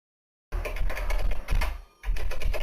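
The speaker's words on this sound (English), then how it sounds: "So here you can hear a person typing on the keyboard, and there is a telephone ringing in the background in a different room." Close keyboard typing clatters in quick irregular bursts, while a telephone rings in a different room in the background; a brief dip interrupts the typing partway, and no one speaks.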